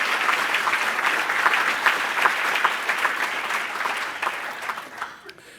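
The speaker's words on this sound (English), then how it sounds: "the script says I need a round of applause for all our event sponsors" A large dinner audience at a disability employers' event applauds steadily for several seconds, a dense wash of clapping that tapers off at the end.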